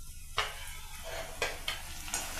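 Chopped tomato sautéed with garlic in a pan, a close steady sizzle with a few sharp scrapes of a spoon stirring against the metal, no voices.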